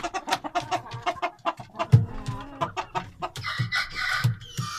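Young Indian roosters cluck and squawk in quick, uneven bursts close by, with a short crowing-like cry partway through and a brief rustle near the end.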